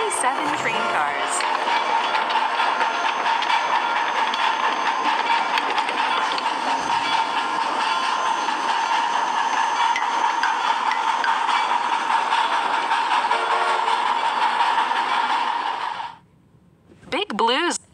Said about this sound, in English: Locomotive pulled 97 train cars.